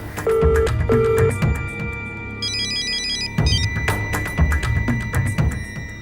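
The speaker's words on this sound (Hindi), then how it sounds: "आखिर ये पहली बार गीता मुझे क्यों फोन कर रही है?" A phone ringtone plays in repeated electronic beeps and chirping tones, loud and close, over a background of muffled noise.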